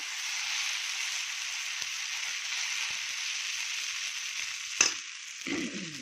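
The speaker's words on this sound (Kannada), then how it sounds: "ಇವಾಗ ಇನ್ನೊಂದು ದೋಸೆ ಹೊಯ್ಯೋಣ ಇದೇ ರೀತಿ ಎರಡನೇ ದೋಸೆ ಚೆನ್ನಾಗಿ ಬರುತ್ತೆ" Buttermilk dosa batter sizzles steadily on an oiled tava, a broad continuous hiss throughout, with a brief clatter of a utensil near the end.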